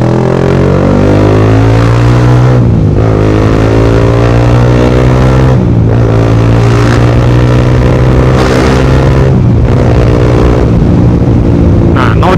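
A Honda CBR150R fitted with a Daytona GP racing exhaust blares very loud and close, climbing in pitch through several revving runs, each broken by a brief drop between shifts.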